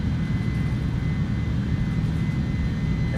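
Aircraft engine roaring steadily during a takeoff roll in Microsoft Flight Simulator 2020, a loud, constant low rumble with a faint high whine, no voices over it.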